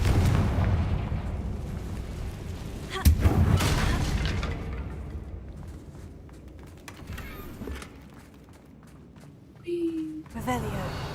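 A Confringo blasting spell going off in Hogwarts Legacy, a sharp explosive boom followed by a rumbling decay, with further game effects and bursts after it and someone talking across much of it.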